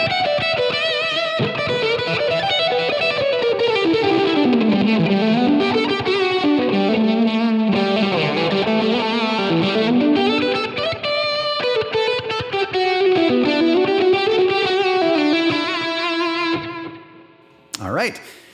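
A distorted electric guitar lead tone shaped for a well-known instrumental on a Line 6 Helix with EQ applied: fast, fluid legato runs sweeping up and down, loud and close, ending in a sustained ringing note and a short pick scrape.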